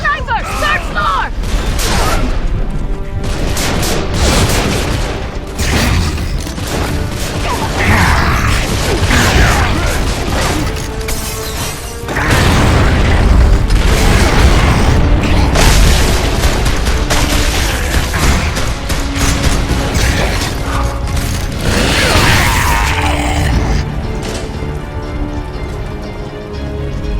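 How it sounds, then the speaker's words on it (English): Mortar explosions in the video game Gears of War 3: dense, loud battle noise with repeated deep booms and crackling bursts running throughout, and voices call out over the din. "Incoming mortar! Take shelter!"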